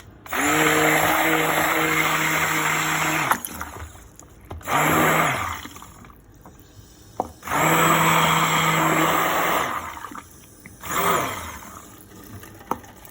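A blender whirs loudly while mixing oat milk soap, running in three long high-pitched bursts and a shorter fourth, each revving up and cutting off, with pauses between and no talk.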